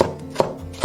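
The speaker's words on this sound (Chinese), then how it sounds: "葱白切粒" Three sharp knife chops dice scallion whites on a board, close and evenly spaced, with nothing else heard.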